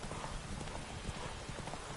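Horse hooves gallop at a fast, steady clip-clop during a horse race in The Witcher 3, loud and close, with a busy game soundscape behind them.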